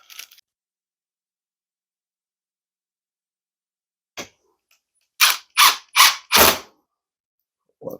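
Screws driven into a wooden rabbit hutch during assembly come as four short, loud bursts in quick succession, each a brief whir from the driver, with a faint click earlier and long quiet gaps between.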